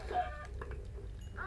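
A Minecraft chicken gives a few short, soft clucks in quick succession, moderately close, with a game soundscape and some brief vocal sounds around them.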